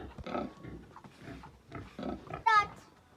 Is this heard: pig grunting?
yes